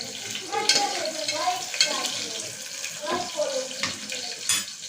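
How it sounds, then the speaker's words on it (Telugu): Cumin, mustard and fenugreek seeds sizzling and crackling in hot oil in a home kitchen pan, a steady close hiss with scattered pops and a few clinks of stirring. "జీలకర్ర ఆవాలు యాడ్ చేసిన తర్వాత జస్ట్ మెంతులు యాడ్ చేయాలి"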